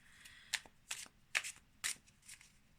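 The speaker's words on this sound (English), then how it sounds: "I'm gonna pull one card from" A small pocket animal spirit card deck is shuffled in a quiet room, producing four or five short, crisp riffling bursts close up, with soft card handling between them.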